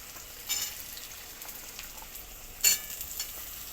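Potatoes and onions fry in a pan with a steady low sizzle, broken by a couple of short stirring scrapes, one near the start and a sharper one later. No voices.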